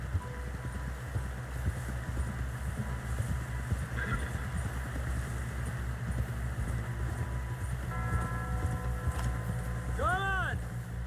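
Horse hooves clip-clopping in Red Dead Redemption 2, a steady galloping rhythm carried on under voices, with a horse's neigh rising near the end.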